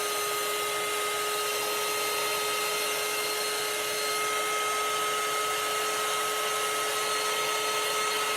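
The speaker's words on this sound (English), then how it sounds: "is just a heat gun" A heat gun blowing hot air to dry paint ink on a shadow box, a steady, even whirring hiss with a constant tone running throughout at moderate volume, no voices.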